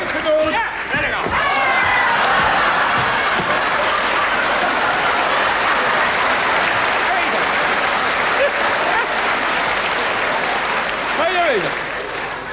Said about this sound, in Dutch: Ontvangt u ze met een hartelijk applaus.